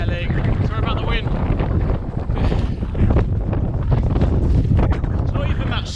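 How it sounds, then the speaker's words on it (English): Heavy wind buffets the microphone in constant rumbling gusts on a hillside campsite in wind and rain, loud and close, with a person talking faintly underneath. "Sorry about the wind."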